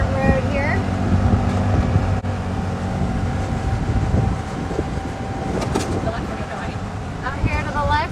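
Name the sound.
golf cart driving on a dirt road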